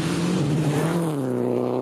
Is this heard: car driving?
yes